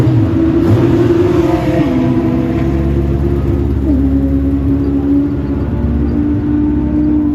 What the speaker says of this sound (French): C'est parti, Simon va rentrer sur la piste